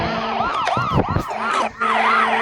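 A police car siren in a car crash driving game, loud and close, its wailing tone sweeping up and down repeatedly and breaking off briefly near the end before resuming.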